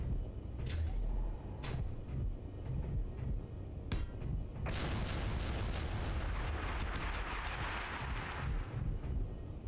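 Cannon fire in a video game booms repeatedly amid a dense, rumbling battle din, with several sharp blasts at irregular intervals and a longer roaring burst midway.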